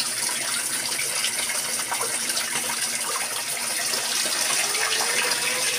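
Running water splashing steadily as prawns are rinsed clean in a village kitchen, a continuous close gushing wash with no talk.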